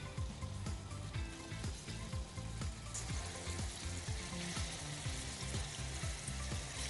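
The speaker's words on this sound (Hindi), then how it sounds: "तो बस इसे हम कुछ देर के लिए शैलो फ्राई करेंगे" Small pieces shallow frying in oil in a pan on a cookery show, a dense continuous sizzle and crackle with rapid popping bursts, close and steady with no talk.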